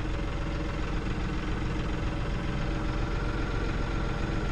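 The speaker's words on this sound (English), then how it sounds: "And I am unloading the tractor." A tractor engine idles steadily at night during unloading, a constant close-up low rumble with a faint knocking throb and no talk over it.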